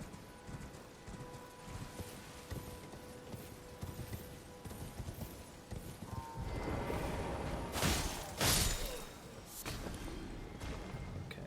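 Hoofbeats of a knight's horse in Elden Ring, a steady clip-clop that swells louder and closer midway with a couple of heavy thuds, then carries on under ambient game noise.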